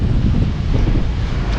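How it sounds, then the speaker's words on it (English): Strong wind in a Cape Town neighbourhood buffets the microphone in a loud, continuous low roar with gusty swells. "This place is so windy."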